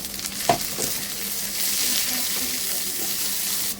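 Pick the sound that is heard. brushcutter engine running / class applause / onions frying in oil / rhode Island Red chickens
onions frying in oil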